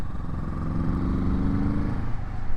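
Kawasaki Z-series retro motorcycle engine while riding, either a Z900RS or Z650RS, with a steady, fairly loud engine drone and rushing wind running throughout.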